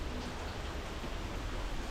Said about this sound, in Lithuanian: O, lietus kaip įgėjo, tik tik apliaupė